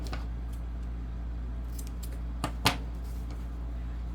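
Scissors snip through soft Velcro for a seat belt cover, a few faint quiet cuts followed by two sharper, louder snips close up over a steady low hum, and nobody speaks.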